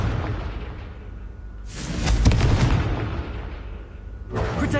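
A Confringo fire-blast spell in Hogwarts Legacy bursts out as a loud, broad whooshing blast that swells and fades, followed shortly by another burst beginning.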